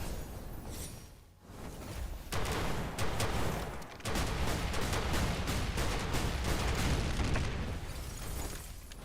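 Sustained gunfire in the Snowbreak video game, rapid bursts of shots and booming impacts stacking into a loud, dense fusillade that runs almost nonstop after a brief lull.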